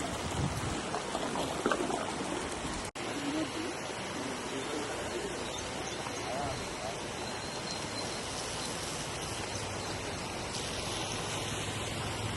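Heavy floodwater after intense rain rushes steadily through low-lying residential colonies, a broad continuous roar of flowing water that stays fairly loud and unbroken throughout, with a brief dropout near the start.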